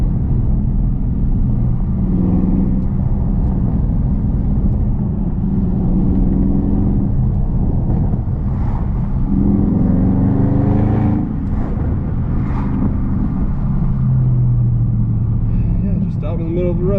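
A 2019 Dodge Charger Scat Pack with a mid muffler delete runs in sport mode, its deep exhaust rumble steady and close throughout, swelling and easing with throttle as the car drives along a road.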